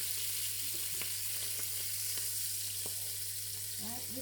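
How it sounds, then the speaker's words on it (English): Thick steak fries in a pan, a faint, steady sizzle with scattered small pops and clicks, heard close but quiet under a low background hum. "Because this meat is slightly thicker, I'm going to let this cook for a while more."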